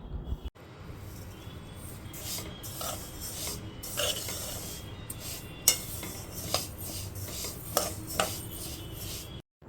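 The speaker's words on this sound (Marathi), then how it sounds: "गॅसही मंद आचेवर आहेत आणि छान खमंग भाजून घ्यायचे आहेत" Unpolished sesame seeds dry-roasting in a pan over a low gas flame, stirred with repeated scraping and rasping strokes against the metal and a few sharper clinks, steady and close throughout.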